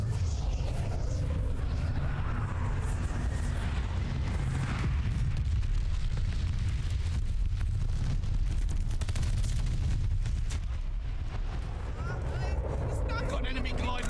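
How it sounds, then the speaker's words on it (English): A friendly bombing run in Call of Duty Vanguard: a continuous rumbling barrage of explosions and booms with gunfire, loud and sustained, with radio-style voice callouts over it. "Friendly bombing run on the way."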